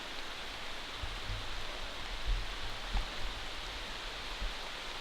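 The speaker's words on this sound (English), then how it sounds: "Here comes the rain." Steady rain falls in British woodland during an overnight camp, a faint even hiss with occasional soft low thumps of drops, no voices.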